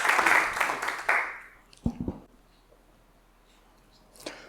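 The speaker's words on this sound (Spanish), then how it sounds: "Vamos a dar un aplauso de bienvenida." An audience in a university lecture hall gives a short burst of welcoming applause that fades out within a couple of seconds, leaving near silence with a few soft thumps and rustles.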